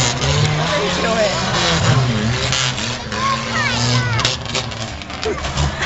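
A car with an optional high-flow exhaust revs and accelerates hard around a figure-8 course at a tough truck challenge, the engine rising and falling with tire skids while people talk excitedly over it.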